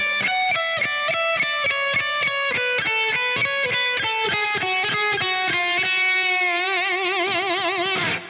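A distorted electric guitar plays a solo slowly, a run of evenly picked notes stepping through a melodic line, ending in a long wavering tremolo-bar vibrato, loud and alone.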